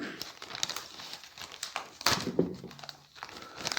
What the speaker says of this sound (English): Let's see if it will cut open that.